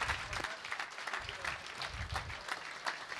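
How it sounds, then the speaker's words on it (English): Faint, sustained applause from a business event audience, many hands clapping at a distance for an award winner, heard alone without speech. "can we get a round of applause?"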